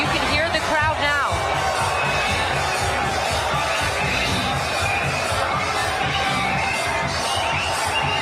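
A dense crowd roars and cheers at a Madison Square Garden boxing event backing Scottish fighter Josh Taylor, a steady wall of loud, near babble and shouts, with a commentator talking over it throughout.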